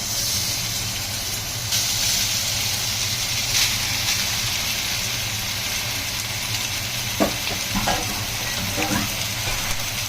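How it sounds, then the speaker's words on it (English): Beef hits a hot wok in a shiitake mushroom stir fry, giving a steady, close sizzle of frying meat with a few scraping stirs near the end and a low background hum. "into my hot wok is going my beef"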